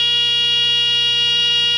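A First Alert battery-operated smoke detector made by Pitway blares a steady, piercing electronic alarm tone, loud and continuous with no pauses.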